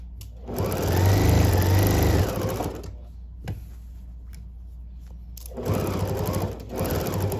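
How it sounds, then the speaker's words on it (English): A sewing machine stitches a quilt in two loud, steady whirring runs with a quieter pause between them, up close and with no voices. "I'm back stitching 4 or 5 times there"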